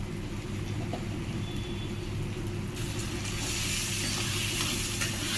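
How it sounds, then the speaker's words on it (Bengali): Spices including turmeric and Kashmiri red chili powder stirred and fried in a pan for koi fish curry, a steady hissing sizzle with a low rumble beneath, growing brighter and louder partway through. "একটু নাড়াচাড়া করে মশলাটাকে কষিয়ে নিতে হবে।"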